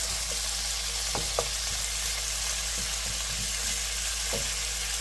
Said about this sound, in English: Now give them a quick stir.